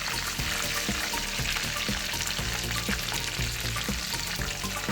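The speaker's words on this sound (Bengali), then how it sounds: "মুরগিটা ভাজা হয়ে গেছে।" Hyderabadi-style chicken fries in a pan with a dense, crackling sizzle, punctuated by repeated low thumps and pops like spatula movements.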